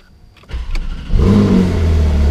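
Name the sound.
Porsche 911 GTS engine starting with key and revving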